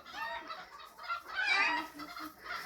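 Turkeys in a farmyard gobble and cluck in several uneven, fairly close bursts, with short pauses between calls.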